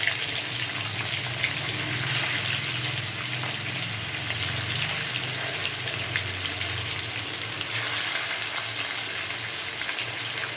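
Pieces of rohu fish fry in hot oil in a wok, a steady loud sizzling hiss with brief surges as the fish is moved, running continuously and close.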